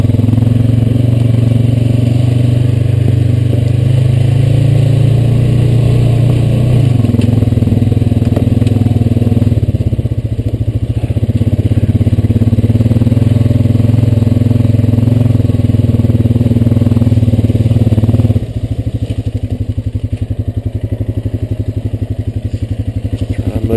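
A Honda Rancher 420AT ATV on a land trail, its engine holding a low steady drone at slow trail speed, close and loud throughout with clattering and scraping over the ground, and a voice speaking over it.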